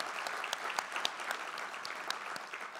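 A crowd applauds steadily at a civic event, the State of Spokane County gathering, with dense continuous clapping and a few sharper claps standing out throughout.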